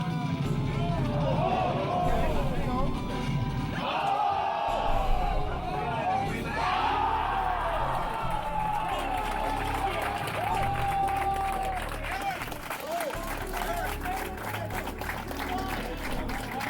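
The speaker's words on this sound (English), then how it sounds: "I also want to give you guys like the crowd reaction because like it was loud." A loud crowd at a Project M tournament erupts in sustained cheering, yelling and clapping, with excited voices and babble throughout.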